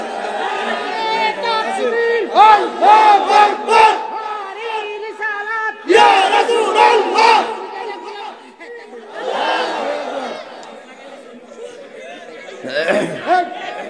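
At an outdoor Islamic sermon gathering in Muradnagar, Bangladesh, a large crowd of young men chants a slogan in loud, rhythmic group shouts, rising and falling in repeated waves.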